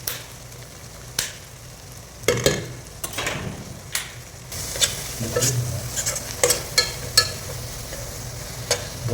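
Masala spices frying and stirred in a pot for camel biryani: scraping spoon strokes and sharp clinks against the pot over a steady sizzle, close and fairly loud, with no talk.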